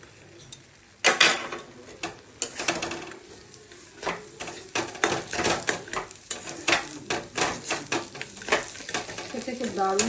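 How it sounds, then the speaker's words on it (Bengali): Dry fruits fry in ghee for sooji halwa, a bright crackling sizzle punctuated by sharp spoon and pan clinks, close up and irregular, with no voices. "ঘিতে ড্রাই ফ্রুট দিয়ে দিচ্ছি।"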